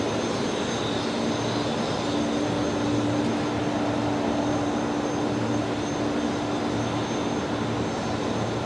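A Qantas airliner takes off from Brisbane Airport runway 01 right, heard at a distance as a steady broad engine roar with a low hum that holds without a break.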